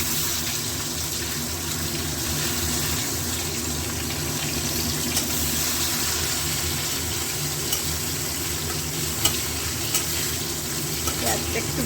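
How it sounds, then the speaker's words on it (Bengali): Raw onions frying in a pan with hot garam masala for a restaurant-style chicken kosha, giving a steady, close sizzle that runs evenly throughout with a few faint clinks and no talk. "তারপর দিয়ে দেবো একটু কাঁচা পেঁয়াজ। পেঁয়াজটা একটু ভাজবো।"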